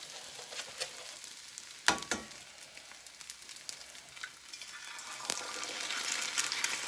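Oil frying in a pan on the stove: a continuous close sizzle with a couple of sharper crackles and scrapes, steady and fairly quiet, with no talking.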